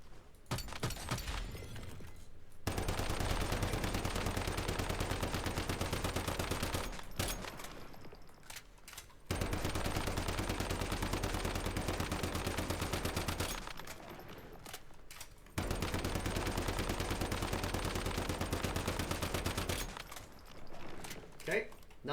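Gunfire in the video game Once Human, a pistol fired three times and then a SCAR rifle unloaded. Long sustained loud bursts of rapid automatic fire are broken by short quiet gaps, with mechanical clicks between them.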